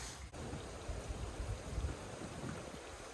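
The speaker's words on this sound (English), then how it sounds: "The river's really flowing today." A strong river flows in a steady broadband rush during a hike in rainy storm conditions, continuous and fairly close, with no talking over it.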